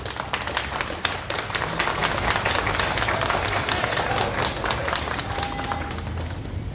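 Applause fills a public gathering in Haiti, with a dense, continuous patter of many clapping hands held at steady volume for several seconds and a few voices mixed in.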